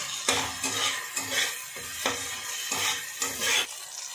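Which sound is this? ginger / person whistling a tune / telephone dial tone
ginger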